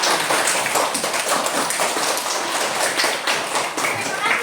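Fifth-grade primary school pupils clapping hands together in a classroom, a dense, continuous burst of many hands that stays loud and even throughout.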